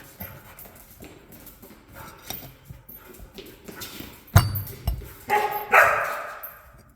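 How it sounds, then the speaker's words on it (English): A few loud dog barks ring out indoors near the end, after a stretch of quiet shuffling and light clinks during a MerCruiser Alpha One Gen 1 outdrive rebuild. "Dog in the house."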